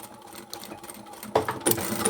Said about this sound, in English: I'll back stitch again.